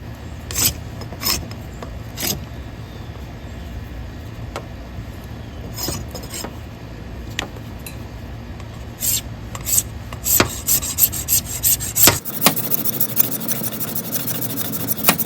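Dry rasping scrape of a dull saw spine across a fatwood pine knot, repeated in short uneven strokes over a steady low background hum, with quicker, sharper strokes toward the end.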